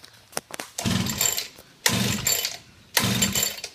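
A motorbike engine makes several short bursts, each cranking and revving for about a second before cutting out, loud and close, as if it is struggling to start.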